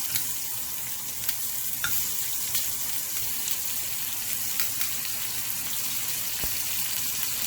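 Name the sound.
onion sautéing in oil in a pot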